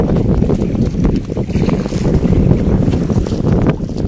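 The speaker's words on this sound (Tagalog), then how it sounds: "Nabagat natin ang hangin natin ngayon." Strong southwest monsoon wind buffets the microphone in a steady roar at sea, with water sloshing against a boat underneath.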